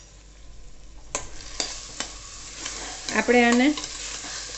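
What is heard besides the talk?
stirring and sautéing rice in ghee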